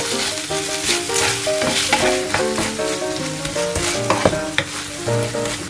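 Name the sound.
stirring sour cream and mustard in a pan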